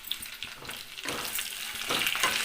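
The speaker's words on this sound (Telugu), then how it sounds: "ఇప్పుడు పోపు దినుసులు వేసుకుందాం" Tempering spices sizzle in hot oil in a pan alongside fried ginger and chillies, a close, continuous crackling fry that swells louder toward the end.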